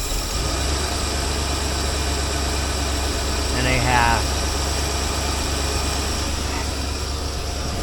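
A 1963.5 Ford Falcon Sprint engine idles steadily nearby, a constant low rumble that stays even throughout, with a brief squeak or chirp in the middle.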